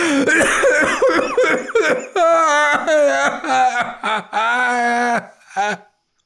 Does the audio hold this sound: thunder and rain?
no